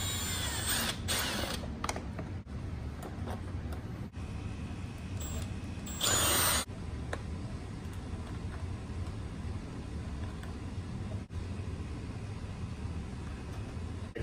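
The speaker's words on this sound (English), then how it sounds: "right now I'm just going to drill these 2 holes" A steady mechanical whir of a power drill boring holes for a Porsche 911 radiator grill install runs throughout, with a brief louder burst partway through and a few clicks.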